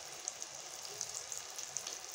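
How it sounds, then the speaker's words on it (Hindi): Potato roll samosa snacks frying in hot oil, a steady soft sizzle with small crackling pops throughout, fairly quiet and continuous with no talking. "फिर करेंगे इनको फ्राई"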